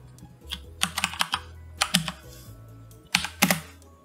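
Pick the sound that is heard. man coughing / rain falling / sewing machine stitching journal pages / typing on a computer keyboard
typing on a computer keyboard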